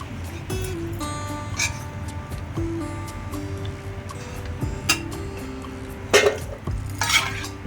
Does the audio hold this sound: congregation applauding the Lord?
no